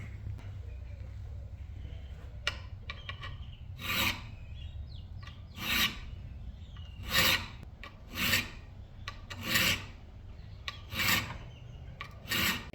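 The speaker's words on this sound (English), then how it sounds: "So I got my plunge lines filed in" A hand file rasps plunge lines into an old knife blade in steady, evenly spaced strokes, each a bright scraping burst, over a low constant hum.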